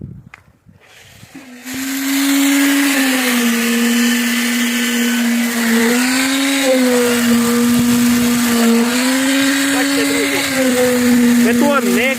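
A concrete vibrator whines continuously at a steady high pitch, wavering slightly as it compacts concrete for house piles, loud and close, after a brief quiet start.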